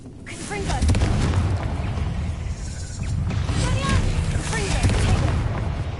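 Confringo fire spell blasts in the Hogwarts Legacy video game, a dense continuous barrage of booming, crackling explosions with rumbling low end and scattered sharp cracks, loud throughout over busy game sound.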